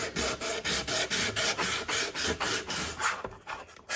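Steady back-and-forth rasping of sandpaper on a dark-finished wooden wine carrier, repeated strokes in an even rhythm, close and fairly loud, with no talking.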